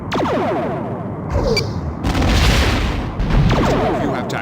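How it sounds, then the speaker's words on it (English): Laser fire from the Star Trek: The Next Generation: A Final Unity video game, booming bursts with a brief tonal zap, loud and close, repeating over a few seconds. "Our laser fire missed."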